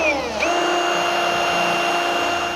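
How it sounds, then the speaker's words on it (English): A power drill with a blunt bit grinds into car body spot welds during a Holden VK restoration, whining at a falling then steady pitch with a continuous, loud, even drone. "So I'll get these spot welds drilled out"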